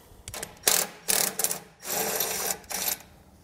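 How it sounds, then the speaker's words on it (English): A 19mm socket ratchet removes a bolt on a GMC Sierra 3500 pickup, giving four or five quick bursts of close, crisp clicking separated by short pauses. "Now we're going to use a 19mm socket, and we're going to take off that other bolt there."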